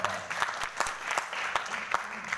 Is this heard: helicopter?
no